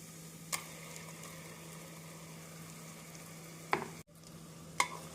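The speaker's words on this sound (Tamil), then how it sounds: "நாம் மசாலா சேர்த்து நன்றாக வதக்க வேண்டும்." Ground masala with onion and ginger-garlic paste sautéing in a pan for chicken kulambu, a soft steady sizzle broken by three sharp spoon clinks against the pan.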